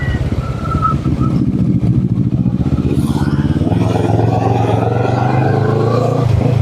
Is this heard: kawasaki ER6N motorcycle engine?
yes